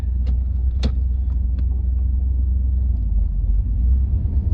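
1989 third-generation Camaro driving, a deep low engine rumble heard from inside the car, steady and fairly loud, with a few brief clicks and rattles near the start.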